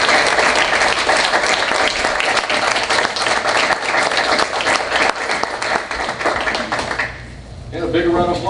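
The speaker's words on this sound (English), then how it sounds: "And a big round of applause for Alderman Pete Colrelli" A long, dense round of applause from the audience at a village board meeting in Lemont, steady and loud for most of the stretch before thinning out, with a voice speaking near the end.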